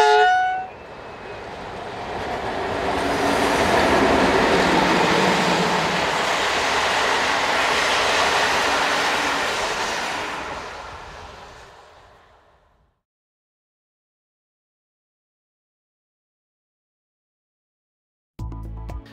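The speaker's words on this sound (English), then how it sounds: "this class M62 has been placed at the front of this passenger service for Miskolc" A Hungarian class M62 diesel locomotive hauls a passenger service toward Miskolc, opening with a horn blast, then a loud passing rumble and clatter that builds, holds and fades away into silence, with a brief burst of sound at the very end.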